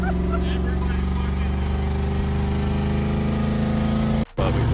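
A modified C4 Corvette engine runs loud and steady with a deep, rumbling harmonic drone and a short cutout near the end, while a voice talks over it.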